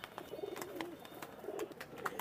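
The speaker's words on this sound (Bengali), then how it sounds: "বিহারসে এক জোড়া আছে টেডি কবুতর" At a large pigeon market in Khalishpur, Khulna, pigeons give soft, repeated coos close by against a faint background bustle, without speech.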